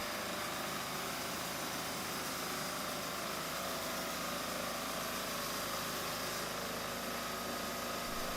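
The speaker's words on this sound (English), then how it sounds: "a mobile bandsaw system designed for heavy-duty timber cutting right on site." A Brenta Pokretna mobile bandsaw runs while cutting timber on site, heard as a steady, unbroken engine drone with broad hiss, even in level, moderately distant and fairly quiet throughout.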